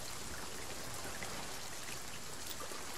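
Storm rain lashing a pirate ship at sea in a video game, a bright, even hiss of falling drops that stays constant and fairly quiet, with no talking.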